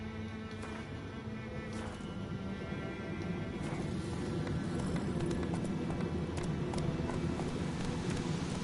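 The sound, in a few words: horse Roach's hooves clip-clopping, from a video game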